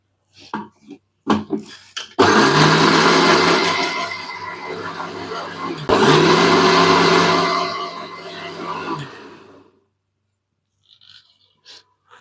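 A mixer grinder whirs loudly for several seconds grinding a paste including poppy seeds for kurma, pauses briefly, then runs again before stopping, with a few clunks before and after.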